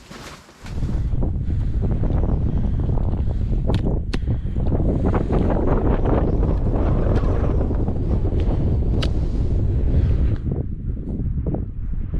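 Blustery, very cold wind on a remote island in the Canadian wilderness, buffeting the microphone in loud, rough gusts that begin abruptly and roar steadily for about eleven seconds.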